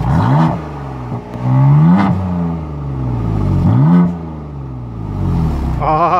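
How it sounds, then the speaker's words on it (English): BMW M3 twin-turbo 3-liter inline six with 425 horsepower, revved three times in sharp rising bursts that fall back to a rough idle, loud and close. "let's do a little rev time here with Johnson."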